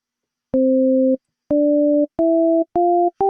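A keyboard sounds pairs of synth notes, each an original pitch doubled an octave up through an Ableton Max for Live device: five clean sustained tones, each a little higher, played alone with short gaps.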